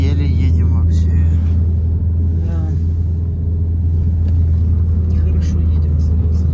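Steady low engine rumble of a car moving slowly, droning continuously close by while people talk over it.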